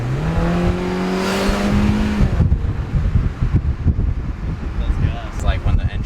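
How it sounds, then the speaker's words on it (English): Mini Cooper R56 with an aftermarket downpipe exhaust revs up loudly with a rising engine drone for about two seconds, then drops to a lumpy, crackling idle with small pops like backfires, with wind noise and people talking throughout. "It's like when the engine's really like pumping, little backfire"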